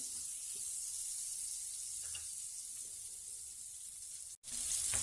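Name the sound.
butter sizzling in a hot kadai for tawa pulao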